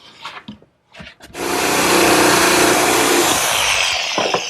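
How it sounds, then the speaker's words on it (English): A jigsaw cuts through wood in a workshop, a few light knocks and handling sounds giving way to a loud, close, sustained buzzing saw run of about two seconds that then stops. "now I can finish it off with my jigsaw"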